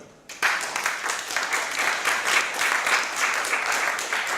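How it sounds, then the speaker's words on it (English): Warm audience applause at a European film business debate, starting abruptly after a short quiet moment and continuing as a steady, fairly loud crackle of many hands. "I want to give warm applause for them"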